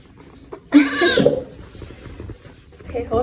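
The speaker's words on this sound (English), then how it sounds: "I don't know how well you guys can hear that, but there's a kitten." A hungry kitten waiting to be fed lets out one loud, drawn-out cry close by, followed by quieter sounds and a person talking in the room.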